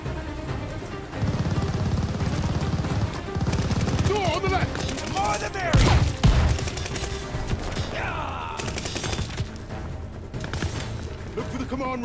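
A grenade goes off in Call of Duty Vanguard, one loud blast near the middle amid continuous machine-gun fire and battle chaos, with other combat sounds running throughout.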